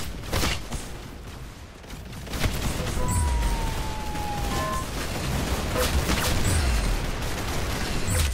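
Gunfire rattles in the Roblox shooter Arsenal, a dense run of in-game shots and booms layered over a steady game-sound bed, loud and continuous with no speech.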